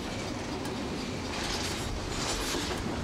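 A train rolls along railway tracks in a steady, close rumble with faint clickety-clack and a light squeal of wheels, continuous and without speech, as a documentary sound effect.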